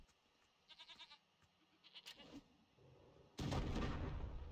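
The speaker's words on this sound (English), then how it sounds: "Let's use a grenade to make this easy." A grenade explosion in the video game Wasteland 3 erupts as a loud, sustained blast near the end, after quieter game sounds including bleating-like calls.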